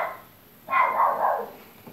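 A single pet dog gives one short bark that trails into a brief whine, close to the microphone in a quiet indoor room.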